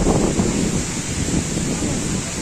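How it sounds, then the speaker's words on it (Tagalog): Strong mountain wind buffets the microphone in a steady, roaring rush that never lets up, with no voices. "Pakalakas ang hangin"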